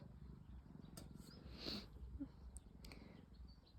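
A grey cat purrs softly in a low, steady rumble, close but faint, with a few small rustles over it.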